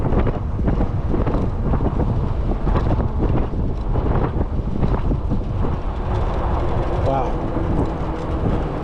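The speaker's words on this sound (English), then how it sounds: "wind is really blowing right here" Strong gusts batter the microphone on an e-bike ride near a pedestrian bridge, a loud continuous rumbling buffet that never lets up, with a voice talking underneath.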